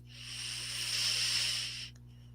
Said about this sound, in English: let's take another deep cleansing breath